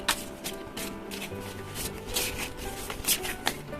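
Tarot and oracle cards are handled and drawn, producing close, repeated papery slides, flicks and soft shuffling rustles in irregular bursts, with no talk over them.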